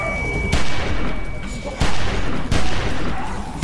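Rapid bursts of gunfire ring out in The Walking Dead video game, several loud, sharp shots spaced irregularly over dense, noisy combat sound with shouting voices mixed in.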